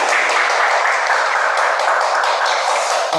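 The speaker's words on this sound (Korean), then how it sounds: "박수로 맞아주시죠." Applause greets someone called up to lead a demonstration at a church training class, a steady, fairly loud crackle of many hands clapping with no break from start to finish.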